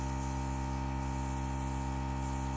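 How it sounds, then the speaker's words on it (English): A Temptu airbrush sprays Perfect Canvas Airshadow makeup in a soft, constant hiss with a steady electric hum beneath, unbroken for the whole moment and with no talking. "I like to spray and then dry in between"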